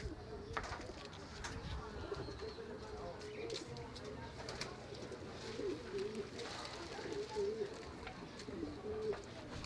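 Pet birds in a cage coo softly and repeatedly, low rolling calls sounding faint and close. Light chirps and background noise run underneath.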